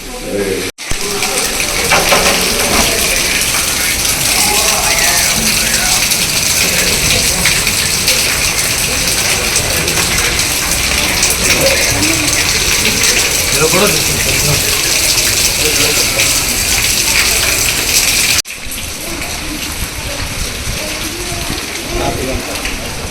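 A leaking tap at a boys' hostel pours water in a steady, hissing gush that runs almost unbroken, with short breaks near the start and toward the end.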